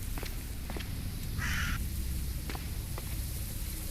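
Crows cawing in the survival video game Cataclysm: Dark Days Ahead: a single short, faint caw rising over a steady low ambient rumble, with light tapping footstep sounds scattered throughout.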